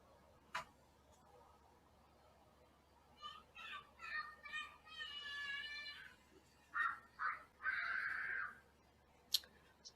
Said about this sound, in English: there's kids playing outside, and they're playing one of those games where there's screaming and hollering a whole lot.